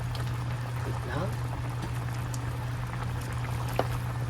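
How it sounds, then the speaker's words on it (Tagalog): Spareribs simmer in a shrimp paste sauce with Knorr cubes and chili, giving a steady low bubbling under a constant hum, with a few small clinks and stirring sounds. "pakuluan na natin siya ng medyo matuyo-tuyo na siya para ma-absorb talaga ng karne yung bagong"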